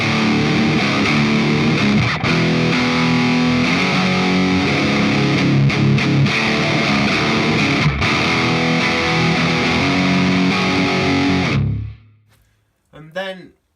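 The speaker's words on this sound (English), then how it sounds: "That's amp distortion or overdrive." Heavily distorted electric guitar through a Mooer GE200 amp-modeling processor set to amp distortion, playing loud dense chords continuously, then cutting off abruptly with a brief quieter tail.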